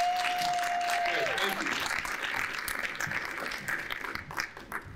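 Applause from an audience at a business panel event, a steady wash of clapping lasting the whole few seconds, with a brief tone and some voice underneath at the start.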